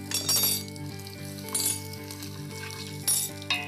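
Asafoetida crackles and sizzles in hot oil, with a steady hiss under bright crackling bursts and a low background hum.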